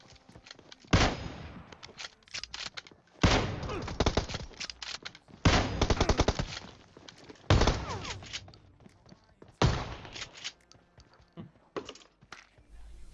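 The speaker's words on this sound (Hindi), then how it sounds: "मैं गोली चला रहा हूँ कार 98 की" Kar98 bolt-action rifle fire in the PUBG Mobile video game: five sharp, loud shots spaced about two seconds apart, each followed by a brief mechanical rattle, with quiet gaps between.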